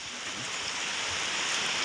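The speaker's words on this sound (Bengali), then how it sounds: "দারুণ একটা বৃষ্টি হচ্ছে" Heavy rain falls in a steady, dense hiss, close and continuous throughout the short stretch with no voices.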